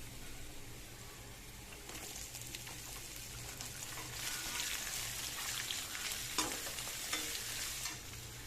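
White onions and garlic fry in a kadai for a village-style vathal kuzhambu, a steady sizzle with scraping stirs that grows louder and busier partway through, alone without talk.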